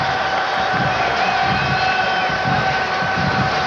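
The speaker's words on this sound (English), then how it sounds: "backed by this sellout crowd" A sellout stadium crowd at a 1990 Florida State football game in Tallahassee roars and cheers continuously, a dense, loud wash of voices with scattered whoops throughout.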